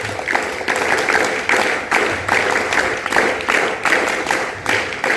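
An audience at an Independence Day ceremony claps in a steady rhythmic pattern, loud and close, with rounds of claps repeating about every second.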